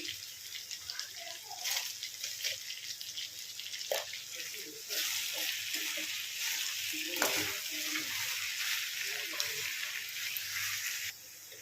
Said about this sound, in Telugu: చూడండి, ఉప్పు కారం మంచిగా కలుపుకున్నాం కదా.